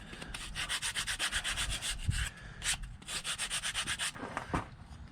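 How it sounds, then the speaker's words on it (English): A wooden plank pattern for a wooden gaff cutter is sanded by hand in quick rhythmic back-and-forth strokes, making a close, dry rasping sound that pauses briefly twice. "I am going to sand it a little bit though."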